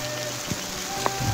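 Heavy rain falling in a volcano crater, a steady soft hiss of drops on the ground with a few brief louder spatters, heard close and alone without talk.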